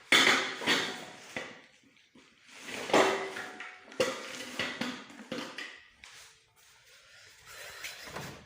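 Metal pots and dishes clatter and knock together as they are handled and packed up in a home, a series of sharp bangs and scrapes with short pauses between them.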